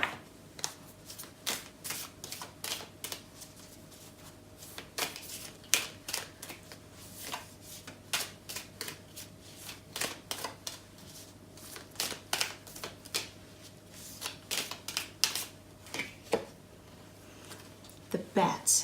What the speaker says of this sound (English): I want to pull one more card from this animal spirit because I love this deck